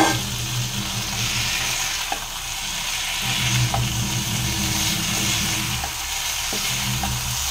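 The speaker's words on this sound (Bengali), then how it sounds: "এবার আমি চিংড়ি মাছগুলোকে দিয়ে ভালো করে নাড়বো" Prawns fry in a pan while being stirred, a loud continuous sizzle with occasional soft scrapes and taps of the spoon, close up and without talk.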